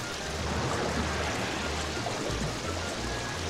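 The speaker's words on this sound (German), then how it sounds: "Drehen wir doch einfach mal am Wasserhahn." Water running steadily from a turned-on tap in the Kingdom Hearts video game, a continuous soft rushing stream with no talk over it.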